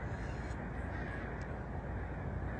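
Crows caw outdoors in a few short calls over a constant, loud wash of background noise.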